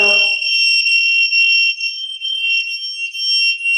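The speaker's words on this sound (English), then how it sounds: "It has a very loud alarm" A loud, piercing ROAR personal safety alarm shrieks continuously at a steady high pitch, starting abruptly after a brief noise and never letting up.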